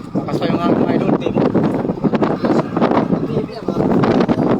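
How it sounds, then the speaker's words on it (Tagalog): Strong typhoon wind at sea, buffeting the microphone aboard a small service boat (pakura) out on open water, a loud continuous roar with gusty surges throughout. "Lakas pa yung hangin. Dahil sa bagyong Wilma."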